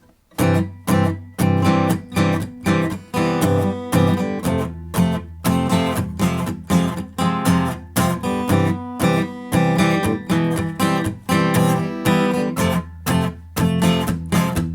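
Chords of a song strummed on an acoustic guitar in a relaxed, chill style, with loud, even rhythmic strokes and brief gaps between phrases, played alone without any voice.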